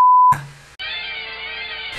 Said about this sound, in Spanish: Espera un segundo, la alarma.